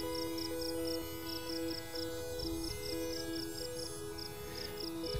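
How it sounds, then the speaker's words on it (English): Crickets chirp in steady, evenly spaced pulses over a low background hum of passing traffic, faint and continuous, at a wildlife refuge. "I can hear the crickets."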